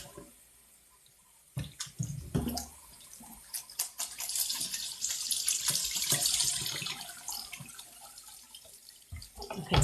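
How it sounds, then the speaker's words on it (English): A sink filling with water for washing a synthetic wig: quiet at first, then the tap opens into a steady, close rush of running water that continues to the end. "Okay, so I'm going to fill the sink back up and repeat the process."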